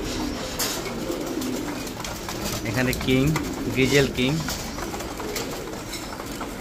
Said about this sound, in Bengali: কবুতরগুলোকে দেখেন খাবার দেওয়া হয় না সকাল থেকে